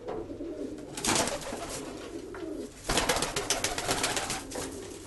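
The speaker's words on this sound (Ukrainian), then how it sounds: "Такі пишненькі вже ці два голуби." Pigeons coo repeatedly in soft, throaty bursts, close by, with rustling and fluttering between calls.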